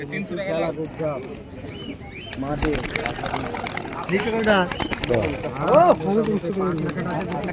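Pigeons coo in baskets at a busy pigeon market in Beldanga, Murshidabad, with soft repeated cooing mixed under nearly constant close-by talk among traders and buyers.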